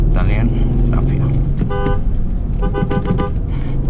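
Horn of a 2013 Mercedes GL450 V8 turbo sounding in two short honks over steady road and engine noise inside the car, with someone talking around it.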